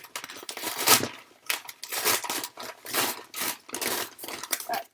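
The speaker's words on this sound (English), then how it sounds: "So I have this awful pair of scissors here, and we're going to open this up." Close, scratchy snips and crinkling plastic packaging from scissors opening a moto g stylus 5G phone box, in short uneven bursts as the scissors work through the material; no talking.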